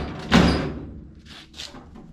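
The door of a chopped 1927 Ford Model T slams shut with one solid, close metallic thud that rings briefly and fades, followed by a couple of faint light taps.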